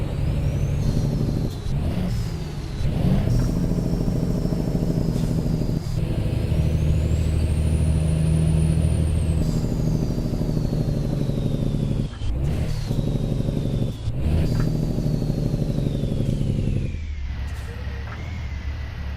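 A custom Hi Way Killer semi truck in American Truck Simulator rolls past, its engine droning loud and steady with revving and gear shifts, a whining pitch sweep overhead and sharp air-brake hisses near the end.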